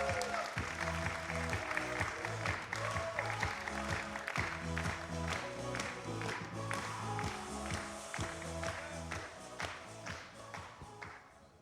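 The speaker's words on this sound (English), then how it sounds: "So let's big applause for Synchronos" An audience at a startup camp applauds a company presentation with steady clapping, while loud rhythmic music plays underneath throughout, the applause thinning toward the end.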